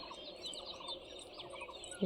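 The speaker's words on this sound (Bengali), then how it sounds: "এক এক গাছে এক এক রকম পাখি ডাকছে" Several birds call and twitter at once from trees in a tea garden, overlapping chirps of different pitches, moderately distant with a soft outdoor hum beneath.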